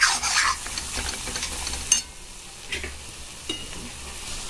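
Ginger-garlic paste is stirred and fried in a pan, producing a soft sizzle with a few scraping clicks from the spoon and no voices.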